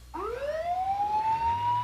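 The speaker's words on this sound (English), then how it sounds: "At the same time, an ambulance was dispatched from the fire station." An ambulance siren rising in a clear wailing sweep, loud and steady, heard alone with a low engine rumble underneath.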